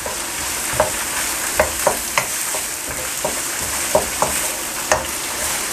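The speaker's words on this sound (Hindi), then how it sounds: "इन सब्जियों को मैं सिर्फ 2 मिनट तक फ्राई करूँगा।" Chopped vegetables stir-frying in a hot pan for vegetable fried rice, a constant loud hissing sizzle punctuated by about eight sharp spatula scrapes and tosses at an irregular rhythm, close up and without talking.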